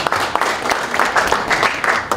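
A forum audience claps steadily in welcome for a guest, a dense, even patter of many hands over about two seconds with no pauses.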